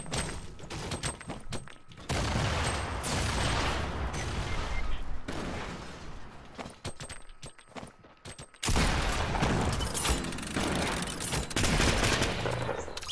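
Grenade explosions and gunfire in a battle royale video game: dense bursts of blasts and shots that come in waves, loud, with a brief near-silent gap before the barrage resumes.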